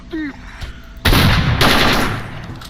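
A brief tone sounds, then a loud burst of rapid gunfire erupts, followed by a second sustained volley, close and harsh, in the video game S.T.A.L.K.E.R. Anomaly 1.5.2.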